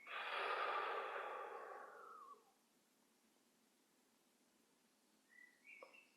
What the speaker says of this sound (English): Nice long pause after the exhale there.